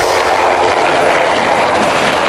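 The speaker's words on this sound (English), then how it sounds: "Cheeky chopper, muttered Rusty" A helicopter roars loud and near with a continuous, dense engine and rotor rumble that stays constant the whole time without any speech.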